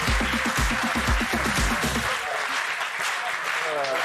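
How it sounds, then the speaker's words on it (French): Studio audience applause on a French television show, a dense wash of clapping that runs the full length, while a voice speaks over the first half. "Allez, applaudissements pour Ségolène Royal."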